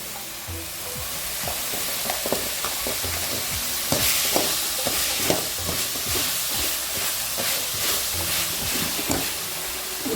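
Banana flower sautés in a hot pan for chutney, a continuous loud sizzle broken by repeated scraping stirs and spatula knocks, close by and without any voices.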